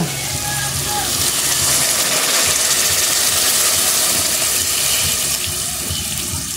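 Water poured into a hot pan of chicken and pechay, giving a steady, loud hiss and splashing rush that holds for several seconds with no talk over it.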